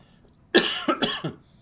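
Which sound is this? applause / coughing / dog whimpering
coughing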